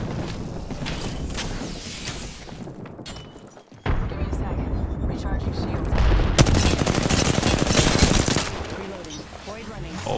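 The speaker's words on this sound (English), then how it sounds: "Getting shot at." Gunfire rattles through a Halo firefight, with bursts of automatic shots and heavy blasts that stop for a moment and then return louder, under a player's voice.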